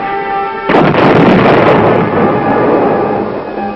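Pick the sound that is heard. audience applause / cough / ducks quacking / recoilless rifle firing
recoilless rifle firing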